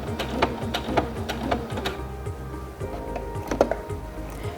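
A Singer Featherweight C240 sewing machine ties off a stitch, giving a close, steady mechanical clatter with regular rapid ticks and a brief louder knock near the end.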